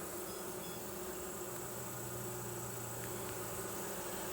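Honeybees hum at a hive as a new queen is released, a steady, close insect buzz filling the whole stretch without speech.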